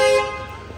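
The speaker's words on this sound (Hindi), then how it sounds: "यहाँ पे भी हॉर्न वगैरह बज रहे हैं और काफ़ी एक तरह से ट्रैफिक ब्लॉक है" On a busy, congested street between Oxford Street and Regent Street in London, a car horn honks once in a short, loud, nearby toot that then fades into traffic rumble.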